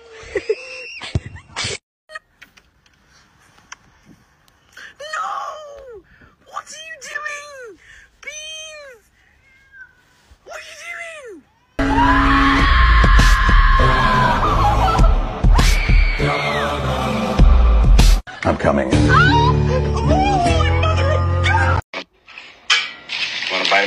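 A cat meows repeatedly, short rising and falling cries close by, then louder background sound and voices come in over further mewing.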